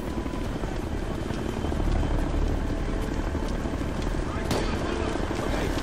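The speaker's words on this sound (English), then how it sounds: "Incoming chopper!" A helicopter in the military shooter game Ghost Recon: Future Soldier gives off a steady, loud rotor drone that fills the whole stretch without a break.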